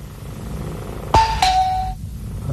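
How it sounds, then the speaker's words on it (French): An electronic doorbell gives a single two-tone ding-dong, loud and close, the second note ringing out before a short silence. "T'as pas une sonnette?"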